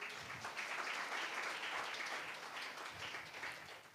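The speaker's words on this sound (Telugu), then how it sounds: "చప్పట్లు కొట్టండి." A church congregation claps together in a steady, sustained round of applause, moderately distant and filling the room without any talk over it.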